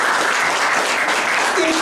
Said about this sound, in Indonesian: Berikan tepuk tangannya meriah buat Tuhan.